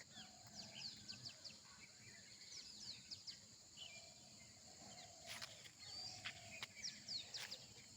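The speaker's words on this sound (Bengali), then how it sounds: "চারিদিকে শুধু পাখির ডাক।" Birds call around a hillside camp resort at Kankrajhor: faint, distant chirps and short trilling phrases repeat over quiet outdoor ambience, with a few sharper calls standing out.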